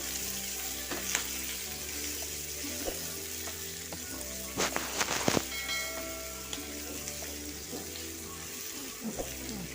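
Onion and capsicum with red chili powder frying on high flame for a crispy button mushroom chilli dish, a steady close sizzle with occasional stirring clatters and scrapes.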